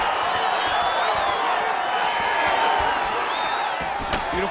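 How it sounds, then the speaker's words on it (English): Crowd cheering in the EA UFC 5 fighting video game as fighters get back to their feet, a loud continuous roar of arena spectators with whistles and whoops, a sharp knock near the end. "big pop from the crowd as they get back to their feet"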